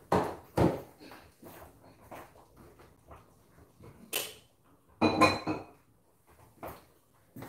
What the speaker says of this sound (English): Now it's time to use our spoon